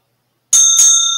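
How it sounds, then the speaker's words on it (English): A small brass gong struck with a mallet gives two bright metallic strikes about a quarter second apart, each ringing on with sustained tones, loud and close. "A little brass gong."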